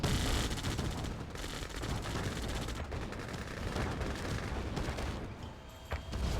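Real-time strategy game Yuri's Revenge battle with a cannon firing at a bunker and tanks: dense, rapid bursts of gunfire and booms packed together, loud and continuous, easing slightly toward the end.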